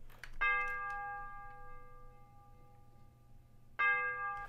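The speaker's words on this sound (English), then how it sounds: "bell that I described as the yeet noise on TikTok." A synth bell in a dark plugg beat strikes twice, about three seconds apart, each hit bright and sharp with a long ringing tail fading under a faint low hum.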